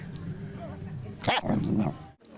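Dogs at an outdoor city dog festival, with a short burst of barking in the middle of the clip over steady crowd murmur and people talking.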